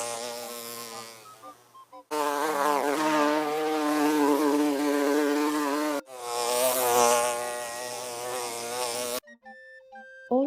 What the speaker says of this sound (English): All of these flies buzzing around me are purely coincidental.